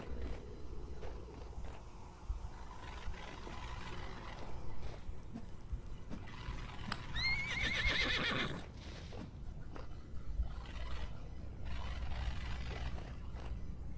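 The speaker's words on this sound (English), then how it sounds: "And there goes the horse." A horse in the video game Vintage Story whinnies once in a rising, quavering neigh over a steady low background rumble with scattered clicks and knocks.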